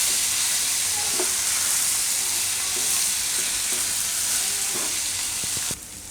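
Fenugreek leaves and bottle gourd fry in a pan, a loud continuous sizzle and hiss with occasional soft scrapes and clinks of a spoon stirring, ending with a brief quieter moment.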